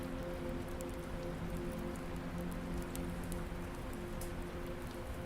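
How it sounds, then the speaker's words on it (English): Soft, steady rainfall in a quiet, cozy setting, a continuous even patter with occasional brighter droplet ticks, alone and unbroken throughout. "sound of rain."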